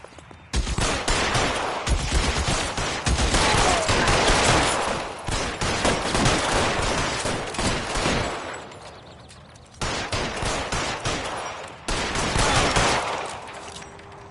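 Loud sustained gunfire from a shootout in the video game LA Noire, heavy volleys of shots in long bursts broken by brief pauses.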